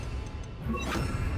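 A Diffindo cutting spell in Hogwarts Legacy, a single sharp magical slash and crash over low rumbling game ambience.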